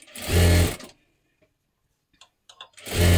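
A sewing machine double-stitches a katori blouse in two loud, close bursts, one at the start and one at the end, with a quiet gap of light clicks and handling noises between them.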